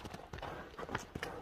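Horse hooves clip-clop in short uneven beats, fairly near and moderately loud, with voices talking in the background.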